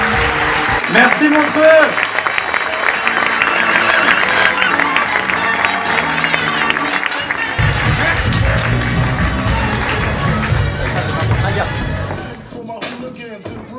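Comedy festival audience in Montreux applauding, sustained loud clapping and crowd noise filling the hall while a performer speaks over it, fading toward the end.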